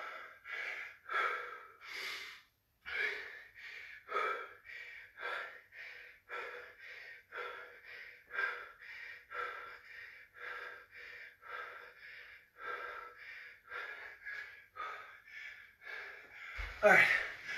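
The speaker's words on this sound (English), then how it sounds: "Keep your shoulders back, hips tucked, and breathe." Heavy, rhythmic breathing from a HIIT workout plank, sharp puffing exhales and gasps repeating roughly every second, close to the microphone, ending with a louder burst.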